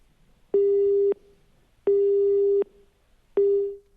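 A telephone busy tone sounds after a phone line drops during a live news broadcast: three loud, steady electronic beeps of equal pitch, separated by short silences, the last one cut off.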